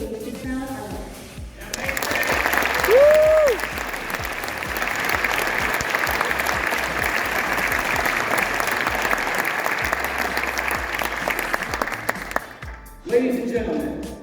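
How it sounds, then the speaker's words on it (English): A crowd applauds steadily for about ten seconds, full and dense, for the current Mr. and Miss Southwest 2023 as they walk on stage at a Southwest Baptist University pageant. A voice speaks briefly before and after the clapping. "Let's give our current Mr. and Miss Southwest 2023 a round of applause as they join us on stage"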